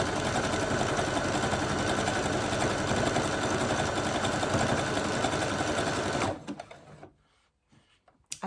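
A sewing machine stitches fabric scraps with a steady, fast mechanical whirr for about six seconds, then stops, leaving faint handling clicks.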